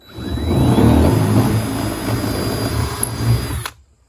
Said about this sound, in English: we're just going to drill through the camper now